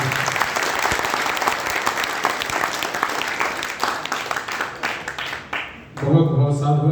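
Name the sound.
audience clapping after a bhajan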